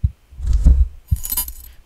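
A key is picked up in a horror video game, giving a quick metallic jingle and clink. A low thump comes first, a louder bright rattle follows, then a second burst of jangling with no talk over it.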